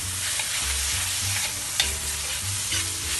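Constant loud sizzling from a hot pan as bean paste (tau tiong) is fried and stirred, with occasional scraping knocks, close and uninterrupted by speech.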